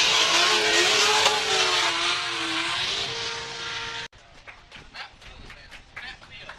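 Nissan 240SX drift cars racing at a Formula Drift event in Miami, engines revving loud and close with broadband roar for about four seconds, then cutting abruptly to quieter, intermittent engine and crowd noise.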